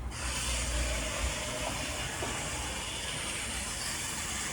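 A car wash's spot-free rinse sprays over a BMW 440i Gran Coupe xDrive, a steady hiss of water mist running continuously at moderate level, with no voices.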